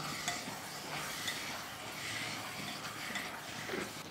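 Chicken pot dish (jigongbao) being stirred in a pan after the lid is lifted, with faint sizzling and soft scraping strokes repeating under a quiet, even frying hiss.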